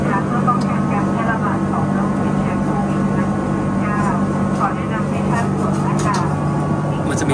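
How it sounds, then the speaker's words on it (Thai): Steady broadband cabin roar of a Thai Airways airliner just after takeoff, heard from a business class seat, with a constant low hum and faint scattered clicks throughout. "ตอนนี้เครื่องบินได้เทคออฟเรียบร้อยแล้วนะครับ"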